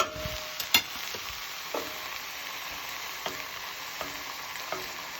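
Chicken breast and onion with garlic sizzle steadily in a pan, a continuous frying hiss broken by a few sharp clinks and scrapes of a utensil moving the pieces around.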